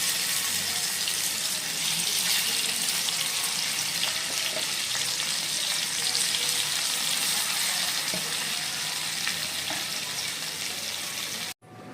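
Tilapia fish frying in salted oil in a pan gives a loud, steady, hissing sizzle that runs unbroken for the whole stretch with no voices, then cuts off abruptly at the very end.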